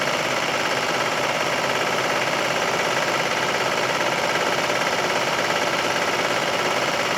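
A serger sewing machine stitches and trims along the edge of a blanket, running as a steady, fast mechanical whir with a constant rattling rhythm, close and continuous throughout.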